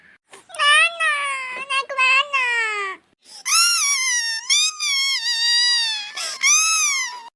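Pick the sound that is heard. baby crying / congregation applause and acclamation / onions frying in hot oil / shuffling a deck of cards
baby crying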